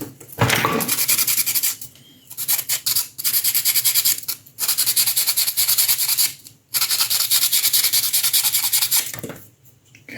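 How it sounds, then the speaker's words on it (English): Notches are cut into a brass rod with repeated bursts of close, gritty rasping strokes separated by short pauses. "I'll make some cuts in the brass rod like this."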